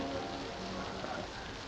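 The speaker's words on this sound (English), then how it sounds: "it's raining" Soft, steady rain patters continuously on a surface, a quiet even hiss throughout.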